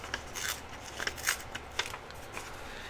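Paper being torn from a book page for a scrapbook pocket, with short, close, crackly rips in uneven bursts over a quiet background and no speech.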